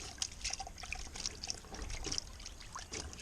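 Water splashing and trickling in a gold pan during gold panning, a continuous close wet sloshing with small dribbles, no talk.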